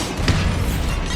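A Bombarda spell explosion in Hogwarts Legacy, a loud, dense booming blast that fills the short moment with rumbling low-end energy.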